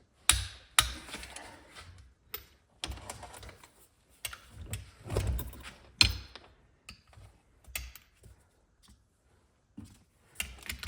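Torque wrench working the large bolts on a broken 14 bolt differential, giving irregular bursts of close, sharp mechanical clicks and clanks separated by short quiet gaps, with no talking.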